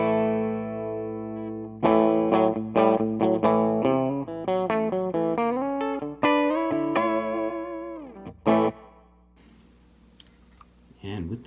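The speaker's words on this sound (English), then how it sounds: "Running a Yamaha Pacifica into my trusty Savage Mach 12." Yamaha Pacifica electric guitar played clean through a Savage Mach 12 amp, a bright run of plucked notes and chords with ringing sustain, up close, ending in a short strum and fading hum.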